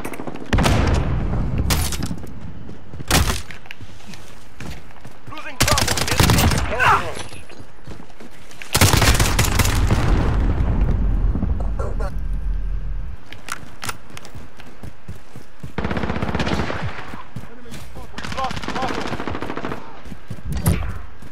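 Automatic gunfire rattles in Call of Duty Modern Warfare, several loud, sharp bursts of machine-gun fire separated by short quiet gaps, with a few heavy booms and fainter shots between them.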